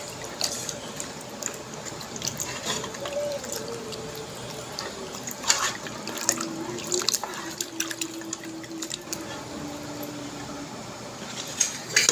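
Tap water runs and splashes while mutton is rinsed for a curry, a steady close trickle with irregular drips and clatters of the meat and vessel.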